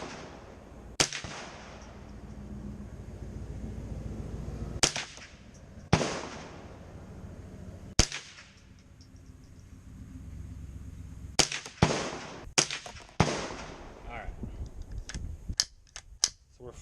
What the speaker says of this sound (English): a Remington Model 597 22 long rifle that we're going to be shooting